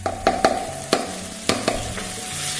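Chopped tomatoes go into masala frying in a pan for a spicy chicken kebab masala rice, with a steady sizzle and several sharp scraping stirs and clacks of a spoon against the pan, close and loud.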